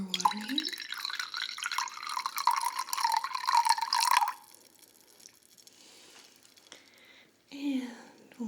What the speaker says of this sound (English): I'm just going to add a little bit more water here